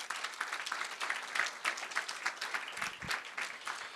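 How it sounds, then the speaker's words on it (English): Sustained round of applause from a lecture audience at a university legacy lecture event, dense overlapping claps filling the room steadily for several seconds at moderate loudness. "One more round of applause, please."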